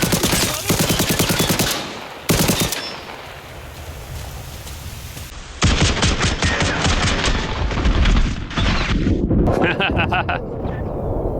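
Rapid bursts of gunfire in the video game ARMA Reforger crackle and rattle almost continuously during an assault, with brief pauses and dense overlapping shots, while a voice speaks over it.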